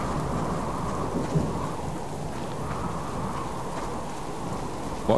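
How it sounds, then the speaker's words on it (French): A thunderstorm in the survival video game Subsistence: steady heavy rain with a continuous low rumble of thunder, filling the scene evenly and loudly with no voices. "Saison des orages."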